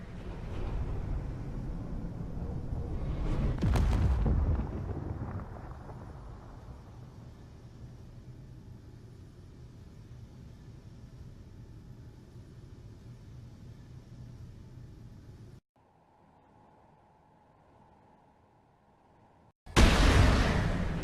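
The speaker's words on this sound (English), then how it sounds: "And with that opening salvo from the MAC cannons there at the front, they have destroyed 2 of the enemy destroyers" Heavy booming salvo from MAC cannons at the front of a fleet in a space war video game, a loud blast swell near the start fading into a long low rumble, then a brief quiet tone and a sudden loud burst at the end.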